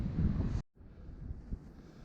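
Wind buffets a microphone on an exposed mountainside along the Appalachian Trail in Shenandoah, a loud low rumble that cuts out briefly and then returns as a steadier, softer gusting.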